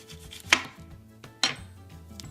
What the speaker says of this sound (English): The next step is to cut some of the top of the garlic